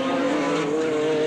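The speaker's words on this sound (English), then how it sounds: "pushing the Formula Holden extremely hard" Formula Holden race car at Mallala circuit driven flat out, a loud sustained high engine note holding steady at speed, close and continuous with no speech.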